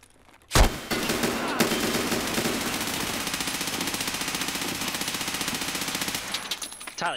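Sustained automatic gunfire in Escape From Tarkov as a full magazine is dumped at a camper near the D2 extract, a rapid, loud, continuous burst lasting several seconds after a brief lull.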